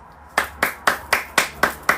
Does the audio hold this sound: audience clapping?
yes